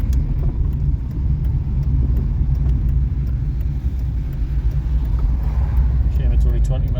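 A classic barn-find Ford Fiesta is driven slowly on the road, its engine rumbling steadily from inside the car, with people talking over it.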